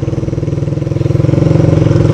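A motorcycle engine revs as the clutch is let out with throttle applied, a loud close throbbing putter that rises steadily in pace and pitch over two seconds.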